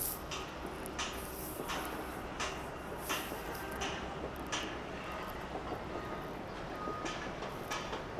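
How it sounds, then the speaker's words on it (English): A train rumbles steadily nearby in central London by the Thames, with a constant low roar and rhythmic clicking of wheels over the tracks. "The train."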